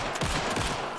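Rapid gunfire bursts in the video game Alan Wake 2, loud and close, several quick shots crackling over a dense, noisy game soundscape.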